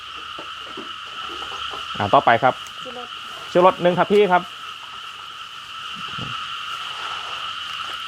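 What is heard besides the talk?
frogs croaking at night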